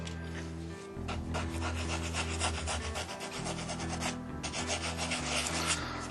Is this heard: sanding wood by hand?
yes